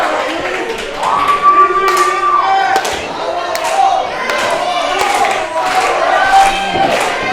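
Crowd at a Coastal Empire Wrestling live event cheers steadily and loudly in a packed arena, with scattered shouts, claps and thuds through the roar.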